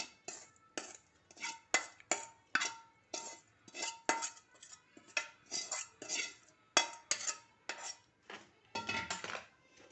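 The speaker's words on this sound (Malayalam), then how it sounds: "ഇത് തേ തേങ്ങയും അണ്ടിപ്പരിപ്പും നെയ്യിൽ വറുത്തത് ഞാൻ ഇതിലേക്ക് ഇടുന്നുണ്ട് എന്നിട്ട് നന്നായിട്ടൊന്ന് ഇളക്കി കൊടുക്കുക" A spoon stirs ghee-fried coconut and cashews into a dish of sweet rice flour, sounding as a loud, close run of metallic clinks and scrapes on the pan in a quick, steady rhythm.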